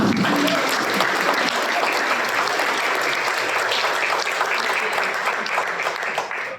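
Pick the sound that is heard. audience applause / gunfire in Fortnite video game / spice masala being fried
audience applause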